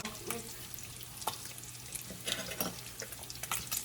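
Water poured into a pan of cauliflower rice, giving a soft hissing sizzle with scattered crackles and pops that rise and fall over several seconds.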